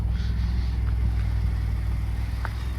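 Engine of a salvaged, totaled truck running steadily, a low rumbling idle close to the microphone with a few faint clicks on top.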